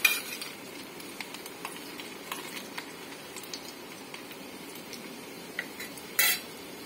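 Garlic frying in oil for homemade chili oil, a faint steady sizzle with a few light clinks of a utensil against the pan and one brief louder scrape near the end.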